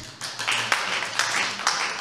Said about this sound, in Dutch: Dank u wel, u krijgt applaus.